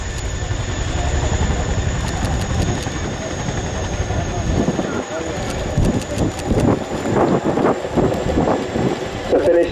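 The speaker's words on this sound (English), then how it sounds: "make some noise so that they can hear you over the thunderous sound of the Chinook's roar" Boeing Chinook helicopter at an air show roars steadily with deep rotor thump and broad engine noise, loud and continuous, while an announcer talks over it and the crowd cheers.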